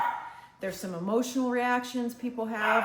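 A dog barks and yips in short bursts near the microphone, mixed in with a person lecturing indoors.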